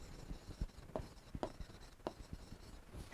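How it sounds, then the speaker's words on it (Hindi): Chalk or marker writing on a board during a biology lesson, a faint series of short taps and scratchy strokes in an irregular rhythm, with no speech over it. "लिख दूं यहां पर"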